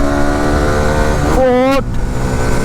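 A Hero Xtreme 160R 4V motorcycle engine drones steadily, then surges through a rising rev sweep and cuts off sharply at a gear change before settling back to a continuous engine roar.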